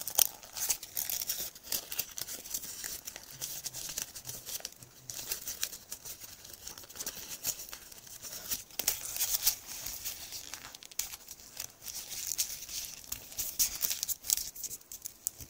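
Paper is folded and creased into origami dragon scales, giving quiet, close crinkles and soft rustling pats that continue steadily with no voices.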